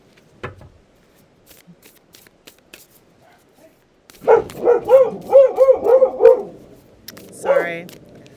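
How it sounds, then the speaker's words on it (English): Several household dogs bark together with a neighbor's dog after a quiet stretch with faint ticks. A rapid run of sharp, loud barks is followed by one more bark a moment later. "My dogs are having a symphony of barking with the neighbor's dog."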